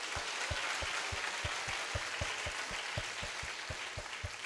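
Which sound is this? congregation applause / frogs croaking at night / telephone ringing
congregation applause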